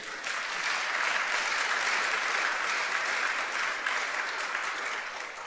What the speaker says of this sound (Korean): 여러분, 우리 스탠 집사님에도 한번 박수 한번 하세요.